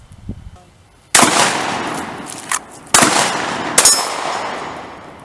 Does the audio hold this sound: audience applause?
no